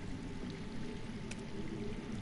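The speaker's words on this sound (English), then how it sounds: "I hear water. From underground." Underground water in a Game of Thrones video game, heard as a steady low rushing flow, faint and continuous like a distant stream beneath the ground, with no other sounds over it.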